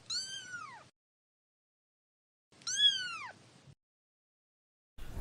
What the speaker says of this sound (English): Silly cats.